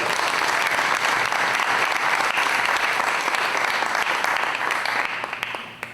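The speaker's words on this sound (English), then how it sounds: "How about a round of applause for Melanie?" Sustained applause from a school forum audience, dense and steady throughout, fading slightly at the end.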